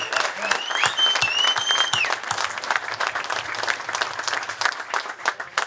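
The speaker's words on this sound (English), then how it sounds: "Let's give Nelson a big applause." An audience at a ceremony breaks into sustained applause, dense clapping from a crowd at moderate volume with a brief whistle early on, tapering slightly toward the end.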